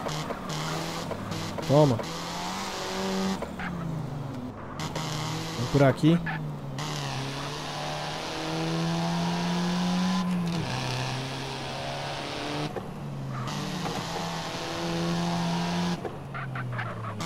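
Car engine from GTA San Andreas, a modified tuned car with an aftermarket exhaust tip, droning steadily with rising and falling revs and occasional sharp bursts, under close voices talking throughout.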